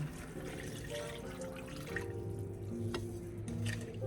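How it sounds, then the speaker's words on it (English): Four cups of water are poured into a cooking pot, making a soft, continuous splashing and trickling sound close by, faint and alone without any talk. "I got my water here, so I'm gonna go ahead and add that in"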